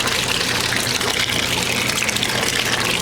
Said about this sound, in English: I'm going to add more water into it, more cold water